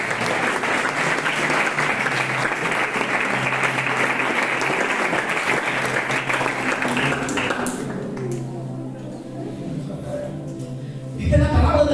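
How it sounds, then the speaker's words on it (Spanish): Congregation applause during a Tuesday evening church service sermon, sustained dense clapping for about eight seconds that then fades out, followed by a quieter stretch before a speaking voice returns. "Da un aplauso a la palabra"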